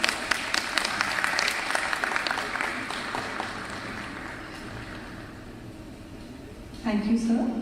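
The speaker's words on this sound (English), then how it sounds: "A huge round of applause." Applause from the audience at an awards summit in Dubai, a dense wash of many clapping hands that is loud at first and gradually thins out, with a brief voice and a swell of sound near the end.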